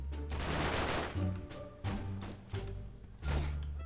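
Lever action gunfire in a shooting video game: several loud, close shots in quick succession, each a sharp blast with a booming tail, spaced roughly every half second to second.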